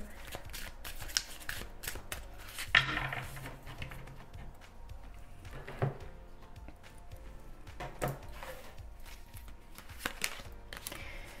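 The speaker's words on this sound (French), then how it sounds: "je vais recouvrir rapidement toutes les cartes" Tarot cards are quickly covered and handled, producing soft papery slides, flicks and taps in a quiet room, with a few sharper card snaps scattered across the passage.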